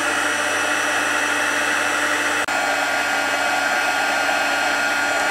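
Continuous whooshing hiss of a heat embossing tool blowing hot air, steady and close, with one brief click partway through.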